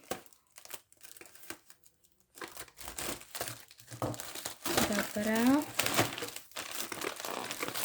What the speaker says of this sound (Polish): Przy okazji będzie teraz ASMR przez tą folię.